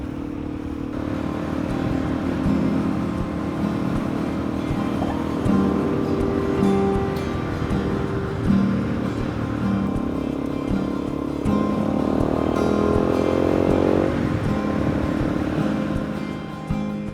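A Suzuki DRZ400E single-cylinder dirt bike rides over loose gravel with a steady, loud engine drone, rising and falling with the throttle, while tyre and wind noise crunch underneath.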